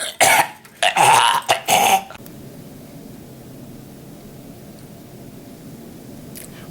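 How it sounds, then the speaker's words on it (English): A person coughs several times in quick succession near the microphone, a short burst of harsh coughs lasting about two seconds, followed by quiet room tone. "Would you please stop coughing?"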